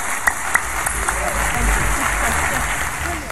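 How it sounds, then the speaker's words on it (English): An audience claps warmly, a dense, steady wash of applause that holds for a few seconds, with a couple of sharper claps near the start. "Please, a warm round of applause for Mr. Jacque Fresco."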